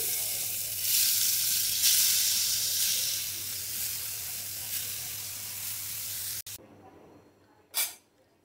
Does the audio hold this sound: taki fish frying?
yes